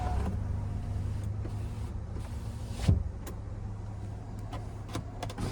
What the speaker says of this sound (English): power sliding rear window.